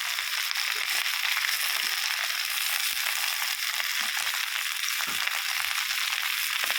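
Cauliflower frying in oil in a pan for a Bengali curry, a steady bright sizzle and crackle throughout, close and loud, with faint stirring ticks underneath.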